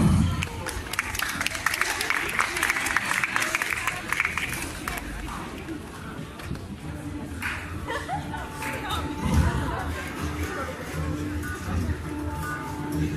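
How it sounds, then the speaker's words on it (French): A crowd at a manga convention applauds ahead of a bokken sword-fighting demonstration, with steady, dense clapping mixed with chatter and crowd noise that runs throughout and swells briefly near the end. "je vous propose d'applaudir tout le monde"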